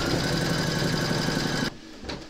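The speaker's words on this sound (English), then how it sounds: "Pop your hoop into your machine along with your thread colour for the satin stitch border around the sleeve and the cuff, and then stitch round number 12" Embroidery machine stitching a red satin stitch border around a sleeve and cuff on an in-the-hoop appliqué, a fast steady mechanical whirring that stops abruptly, followed by a short clunk.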